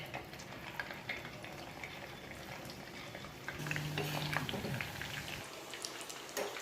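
Chicken 65 frying in hot oil, a soft, continuous crackling sizzle like light rain, faint and steady throughout with a brief low hum in the middle.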